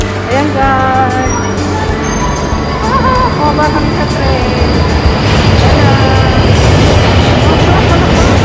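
A London Underground train rides between Hendon and Earls Court. It makes a loud, continuous rumble and rattle, with thin wheel squeals rising and falling and faint voices in the carriage.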